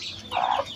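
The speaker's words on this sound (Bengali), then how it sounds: "ভাই অনেকগুলো মুরগি" A chicken gives a short, close cluck in a farmyard flock, a single brief call rising out of quiet background noise.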